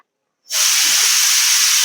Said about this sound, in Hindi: और देखो कुकर में भी आ गई है हमारी सीटी